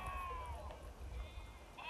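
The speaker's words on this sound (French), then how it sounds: "On entend les moutons un peu plus bas." Sheep bleat faintly in the distance in the Alps, a few wavering calls over wind and low rumble.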